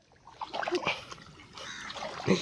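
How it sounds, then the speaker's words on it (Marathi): Water splashes and trickles unevenly from a tap left running on a farm into a container, with brief louder spatters and faint movement nearby. "हे देवानी कॉक चालू ठेवलाय"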